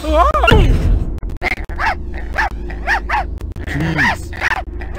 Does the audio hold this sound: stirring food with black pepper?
no